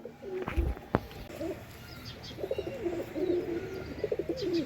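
Desi pigeons in a loft coo in soft, low rolling phrases, several birds overlapping at close range, with a couple of sharp knocks near the start.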